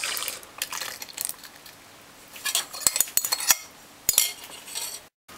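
Banana fritter batter being stirred in a bowl, with a spoon clinking and scraping against the sides in irregular bursts, interspersed with soft wet mixing sounds and brief quiet pauses.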